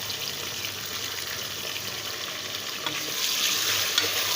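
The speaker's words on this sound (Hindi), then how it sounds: "अब हम इसमें गोश्त डाल देंगे, वो हम इसमें डाल के अच्छे तरीके से इसकी भुनाई करेंगे।" Beef sizzles steadily as it fries in a pan with garlic and ginger for nihari, a dense continuous crackle with occasional stirring sounds.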